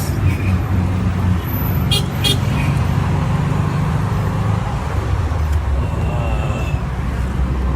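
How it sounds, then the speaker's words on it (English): Inside a small minibus driving through busy Myanmar traffic, a loud, steady engine and road rumble runs throughout. Brief horn toots sound nearby and faint voices murmur now and then. "Now riding on a little minibus."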